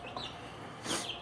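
A hen on an Arizona homestead gives a short cluck, then a louder squawking call near the end, fairly close against quiet outdoor background.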